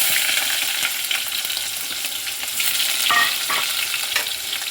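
Onion sautés with mustard seeds and cumin in oil for a drumstick leaf dal curry, a close, even sizzle overlaid with frequent spatula scrapes and a few sharper metallic clinks, no voices.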